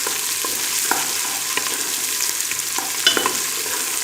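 Onion with garlic and ginger paste fries in a pan for a masoor dish, a close, steady sizzle broken by periodic scraping stirs of a spoon against the pan.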